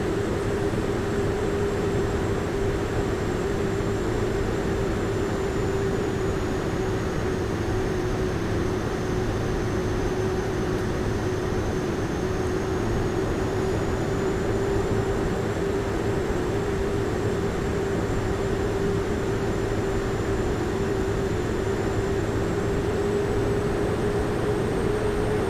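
Simulated Carenado PC-12 turboprop at full power during a steep right-turn go-around in X-Plane 11, a constant broad engine roar with a steady droning tone and no voices.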